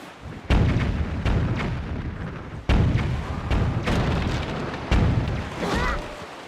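Cannon fire booms in The Legend of Zelda: The Wind Waker at the Forsaken Fortress, three loud heavy shots a couple of seconds apart, each with a rolling rumble, over a steady background roar.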